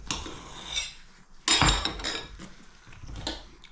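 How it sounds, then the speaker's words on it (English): Knife cutting a piece of banana chocolate chip bread: a few close clinks and knocks of the blade against a plate or board, with a louder clatter in the middle, no talk. "I'll cut another piece now."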